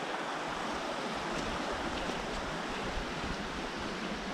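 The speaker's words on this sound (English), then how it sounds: "Just crossing the river" River water rushes steadily and close at a river crossing in the wild Brecon Beacons, a dense continuous wash with wind mixed in and no voices.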